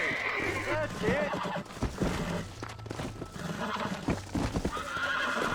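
Horse in the video game Red Dead Redemption, neighing and whinnying with clip-clopping hooves, close and lively, while someone talks over it.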